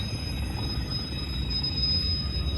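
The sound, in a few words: train passing nearby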